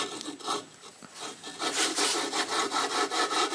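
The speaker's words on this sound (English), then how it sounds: "I keep turning this thing back and forth, allowing this valve to seat in and grind its own way into its seat" An engine valve is turned back and forth by hand against its seat with gritty grinding compound. The close, rhythmic rasping strokes repeat steadily with no talking.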